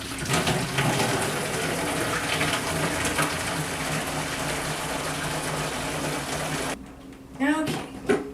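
Sterilizer solution, mixed from a powder, poured into a home brew vat: a steady, loud gush of liquid lasting several seconds, then stopping abruptly, followed by a few brief splashes and knocks.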